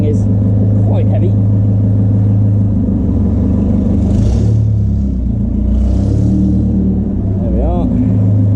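A 1929 Blower Bentley's engine rumbles loudly at low revs as the car pulls away in first gear, steady and close, with people talking over it.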